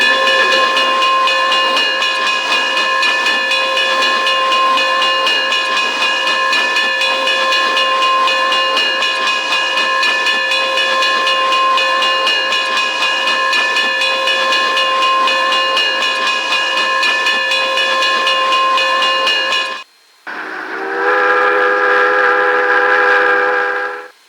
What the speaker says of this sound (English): they would move the steam locomotive into the siding for temporary storage